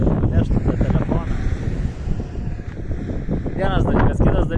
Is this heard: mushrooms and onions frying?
no